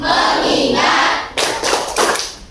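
Students in a classroom clap in rhythm for a focus icebreaker, with a few distinct sharp bursts of hands near the end following a stretch of group chanting, close and loud.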